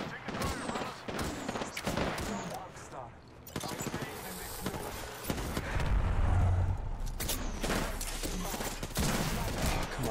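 Bursts of gunfire from the video game Apex Legends, rapid volleys and single cracks spread across the stretch, loud and close, with a voice talking over parts of it.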